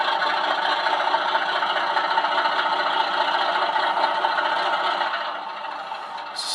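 An OO gauge model train on a British layout starts off slowly, giving a steady close rubbing rattle that runs continuously and eases slightly toward the end.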